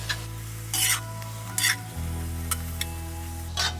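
Eggs fry and get stirred in a pan with pickled mustard greens, a low steady sizzle under a hum, broken by several short bursts of spatula scraping and clatter.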